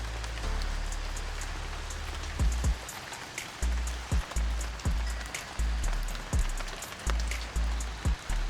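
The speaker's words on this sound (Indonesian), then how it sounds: "Suasana hujan di sini syahdu banget." Rain falls steadily outside a cabin in Baturaden, Purwokerto, a constant close hiss with heavier drops pattering and drumming on a surface at irregular intervals, no voices.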